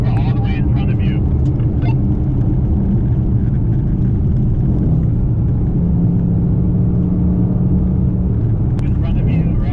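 A car riding on air suspension cruises along mountain roads, its engine and tyre rumble a continuous loud drone inside the cabin, with people talking over it throughout.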